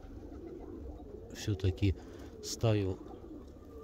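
Pigeons cooing outdoors, three quick low coos then a longer rolling coo up close, with a voice talking briefly in between.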